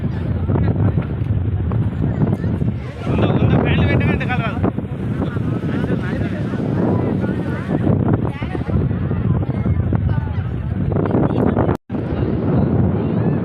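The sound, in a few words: strong wind blowing outdoors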